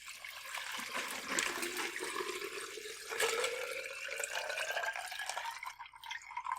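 Liquid water poured into a container in one continuous stream, the pitch of the filling rising steadily as the vessel fills, close and fairly loud.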